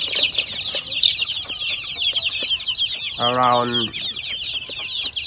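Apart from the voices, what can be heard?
chickens clucking at a chicken farm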